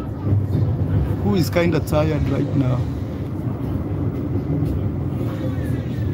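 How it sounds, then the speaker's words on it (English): A steady low rumble of a moving tram interior in Luxembourg continues throughout, with someone talking over it near the middle. "I just sat inside a tram."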